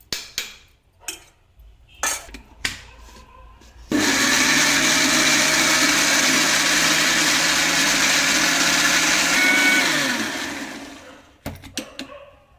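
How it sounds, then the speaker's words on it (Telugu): A mixer grinder whirs loudly as it grinds face cream ingredients dry without water, a steady high motor drone of about six seconds that winds down, bracketed by quiet clinks and handling noises before and after. "మెత్తగా మిక్సీ పట్టేసుకుంటే సరిపోతుంది"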